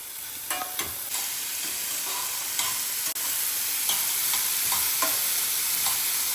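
A ground spice mix stirred into sautéed onions in a hot pan, with steady sizzling frying under scattered scraping clicks of the spoon against the pan, close and fairly loud, no voices.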